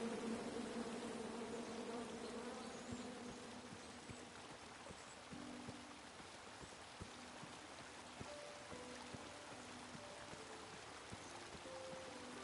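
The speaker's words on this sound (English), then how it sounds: "Come at me, bees!" Bees in a video game drone in a steady, close buzz for the whole stretch, overlapping wing tones wavering over a soft hiss of background ambience, with faint clicks scattered throughout.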